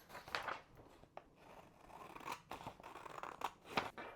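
Scissors cut through a paper PDF sewing pattern sheet, trimming its top edge in a quiet series of close, crisp snips and slicing crunches, with no talking.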